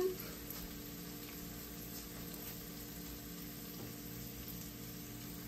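Peanut-paste sauce cooks in a pot with a faint, steady hiss and simmer and no talking.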